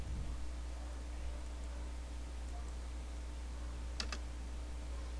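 Typing on a computer keyboard while writing Pascal code, soft keystrokes over a steady hum, then one sharp double click as enter is pressed, with no talking.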